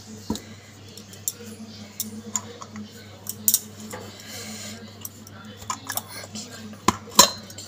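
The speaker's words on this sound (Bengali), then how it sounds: "এবার কড়াই থেকে তুলে নেব টিফিন বক্সটা" A steel tiffin box is lifted out of a covered wok in which pabda fish has been steaming, giving scattered light metallic clinks and knocks over a low, steady background hum.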